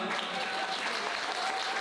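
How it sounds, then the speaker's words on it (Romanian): Wedding guests applaud the couple just before their first dance, a dense, even roar of clapping that fills the hall at a steady level, with crowd voices mixed faintly underneath. "Vreau să-i susținem cu aplauze mari pe Cosmin și pe Daniela."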